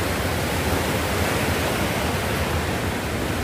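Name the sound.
strong ocean waves at beach resort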